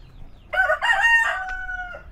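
A rooster crows once, loud and close, at a traditional Balinese house: a sharp rising call that stretches into a long, fading tail, over a quiet background.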